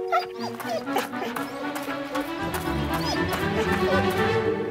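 A frightened, injured dog gives distressed whimpers and short high yelps in repeated bursts, close and fairly loud, while a person keeps talking over them.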